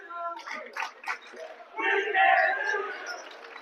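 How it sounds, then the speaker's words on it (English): Spirited crowd at a high school boys' basketball game between Granville and Corinth, with scattered shouts and voices building into a loud, sustained roar of cheering from the stands. "If you guys hear the crowd there"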